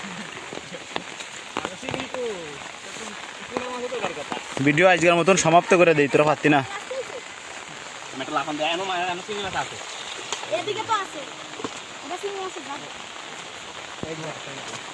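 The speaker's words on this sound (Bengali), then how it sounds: "মুসলধারে বৃষ্টি রে ভিডিও থামাইতে বাধ্য হচ্ছে দর্শক প্রচুর বৃষ্টি" A heavy downpour falls during an outdoor fishing trip, a constant close hiss of rain running under someone talking loudly almost the whole time.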